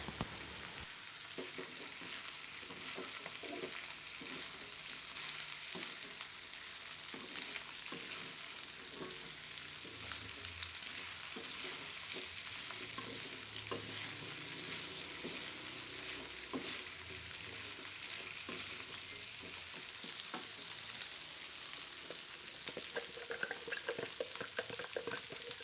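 Chicken and tofu sizzle and fry in a hot pan while being stirred, a steady crackling hiss with scattered scraping clicks running throughout, close and fairly loud, with no voices.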